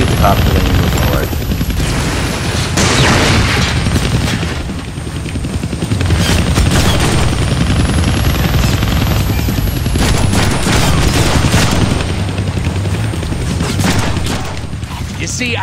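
Rapid gunfire rattles nonstop in a Deadpool action video game, layered over a heavy, helicopter-like roar and dense battle noise that stays loud throughout.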